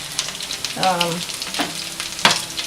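Gluten-free tuna and mackerel cakes sizzling steadily in a hot pan, with a soft crackle under a nearby voice and a couple of sharper scrapes or taps against the pan.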